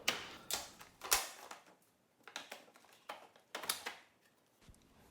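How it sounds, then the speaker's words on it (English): Paint tape being cut along a Ural/Dnepr motorcycle fender held against the fork, a run of sharp close clicks and snips in irregular bursts with short pauses, no talking. "Now we cut paint tape because fender is holding it against the fork."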